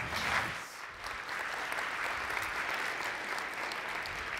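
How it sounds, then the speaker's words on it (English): Audience applause at a PyCon conference talk, a steady wash of many hands clapping that holds at an even, fairly loud level throughout with no talking. "A big round of applause, please."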